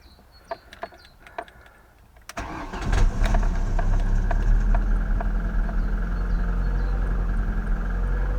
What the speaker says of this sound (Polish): jak to auto odpala, jak pracuje.